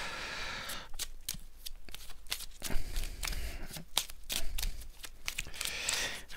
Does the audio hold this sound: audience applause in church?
no